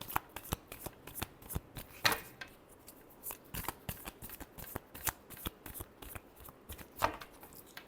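Tarot cards being shuffled by hand during a reading, a close, steady run of crisp riffling flicks and soft slaps for the whole stretch, with no voices.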